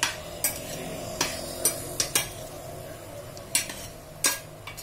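A metal spoon scrapes and knocks against a pot while spicy pork belly cut is stirred, sharp clinks arriving irregularly about a dozen times over a low steady cooking hum.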